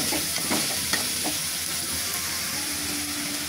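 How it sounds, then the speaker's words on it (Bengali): Beef frying with salt in a pan, giving a constant loud sizzling hiss with a few spatula scrapes and clinks early on, and no talking. "এখন দিয়ে দেবো পরিমাণ মতো লবণ দিয়ে একটু ভেজে নেবো"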